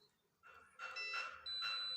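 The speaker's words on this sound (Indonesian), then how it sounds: "Bunyi lagi ya si buzzer." An egg incubator's temperature sensor buzzer sounds when the reading climbs above 40 degrees, giving steady electronic tones in two separate bursts, near and fairly quiet.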